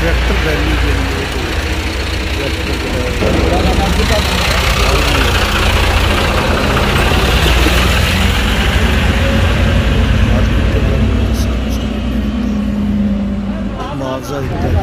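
Tractor engines idle steadily throughout a farmers' tractor rally, a continuous low mechanical rumble with a voice speaking over it.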